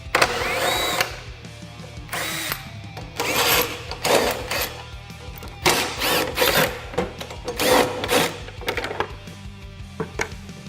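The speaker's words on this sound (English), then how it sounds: "remove the 6 T40 Torx screws holding the rear portion of the fascia on" A power tool runs in repeated short bursts, removing six T40 Torx screws from the rear fascia of a Polaris RZR Pro XP during a receiver hitch install. The whirring pulses are close and loud, with brief pauses between them and no talk.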